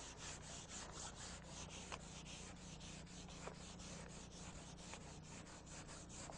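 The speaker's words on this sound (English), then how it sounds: "I'm going to go with finer grit sandpaper now to help feather edge out the body filler" Continuous hand sanding of auto body filler with finer grit sandpaper, feathering the edge where filler meets metal; a steady, even rasping scrub with rhythmic strokes, close and alone without talk.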